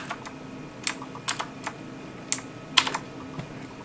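Keystrokes on a Havit RGB backlit wired mechanical gaming keyboard, a sparse, irregular run of crisp clicks, about nine presses spread over a few seconds, close and fairly loud, with no voices.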